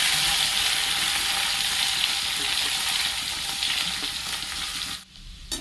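Chopped garlic and ginger go into hot oil with whole garam masala, giving a loud, steady sizzle of frying that fades slightly and cuts off sharply near the end, with no talk.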